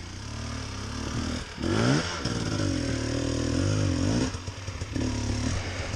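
A motorcycle at a Fort Jackson training track revs hard on the throttle, its engine note rising and falling in loud swells from a single nearby machine.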